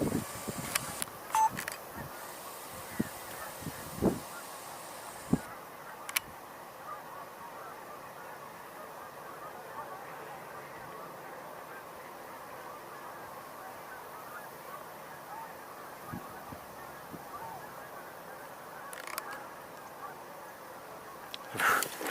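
Distant honking calls of a tundra swan come and go over steady wind noise, faint and far off, with a few brief louder bursts.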